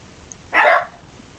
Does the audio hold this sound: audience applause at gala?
no